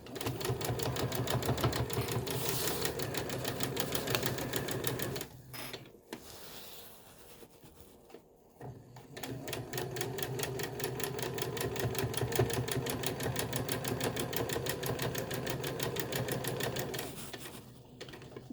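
Sewing machine stitching a fabric face mask, a steady close whir with fine rapid needle pulses running most of the time, briefly pausing midway before starting up again.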